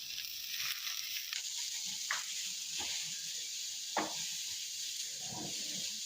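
Okra (lady's finger) sabji frying in a pan on a home stove gives a steady, close sizzling hiss that runs the whole time, with a few soft clicks and taps mixed in.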